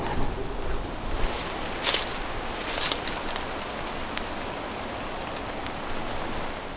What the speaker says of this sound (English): It's pissing down with rain again.